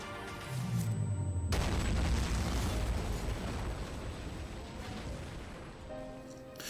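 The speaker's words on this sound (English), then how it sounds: "Brazil is launching a lot of ballistic missiles from his elite bombers" War strategy video game, a ballistic missile launch and explosion, heard as a deep whoosh followed by a heavy booming blast that rumbles and slowly fades. No talking.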